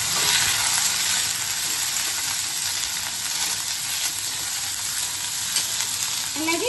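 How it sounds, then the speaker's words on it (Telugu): Karonda berries frying with sesame seeds in oil for a pickle, a steady close hiss of sizzling that holds evenly throughout, with a faint stir scrape near the end and no talk. "ఇందులో మనం ఈ వాక్కాయలు వేసి ఫ్రై చేయాలి"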